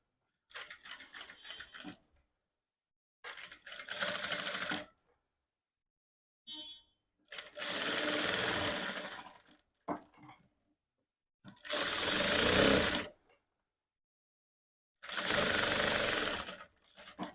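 A sewing machine stitches blouse front pieces together in several separate bursts of rapid mechanical chatter, each a couple of seconds long, with short silent pauses between runs.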